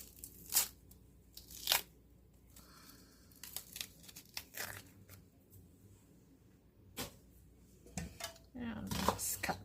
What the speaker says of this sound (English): I'm just gonna throw some onion in there. Let's see, I need to take off this layer.